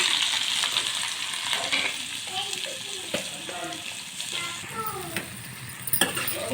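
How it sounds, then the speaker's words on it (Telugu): Onions sizzling in hot oil in a pan with cumin and mustard seeds, a steady close crackle with occasional stirring scrapes, while a voice talks over it for Telugu upma cooking. "చూడండి ఆనియన్స్ అయితే ఫ్రై చేసుకోవాలి."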